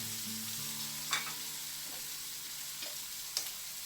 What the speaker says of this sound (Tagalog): pwede na natin idagdag yung ating ground pork. Haluin lang mabuti.